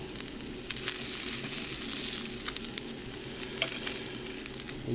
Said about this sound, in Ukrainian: Не будемо його занадто багато підсмажувати.